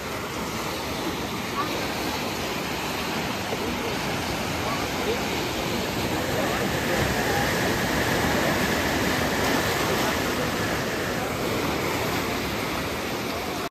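Sea tide waves at Mandarmani beach, a steady loud roar of surf and wind noise filling the whole stretch with no pause.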